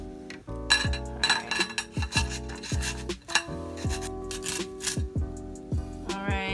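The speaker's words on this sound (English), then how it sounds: "So you just take a cheese grater like this, and I'm just gonna grate our vegetables right up on this plate here" A carrot is rubbed against a cheese grater over a plate, a sequence of rasping grating strokes heard up close beneath a prominent backing of tonal music.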